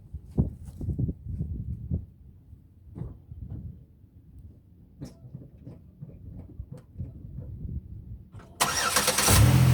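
A 2005–2008 Chevy Uplander minivan sits through several seconds of soft clunks and knocks. Then its engine suddenly fires and roars loudly near the end.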